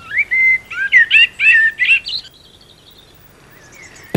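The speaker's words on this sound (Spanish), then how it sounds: "Esta que vemos es una raza del pinzón tintillón" A Gomera chaffinch, the local race of the common chaffinch, sings in the Garajonay laurel forest on La Gomera: a clear, close series of bright chirping phrases for about two seconds, followed by near-silence and a faint distant call.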